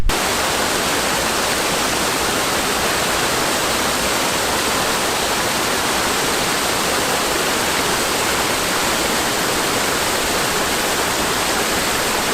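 A steady, loud rush of flowing stream water runs without pause along the West Highland Way in winter, a dense broadband wash with no voices.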